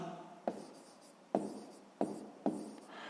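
Pen strokes on paper while a 6th-grade math solution is written out, four sharp scratchy onsets each trailing into a short rubbing stroke, close and quiet with no talking.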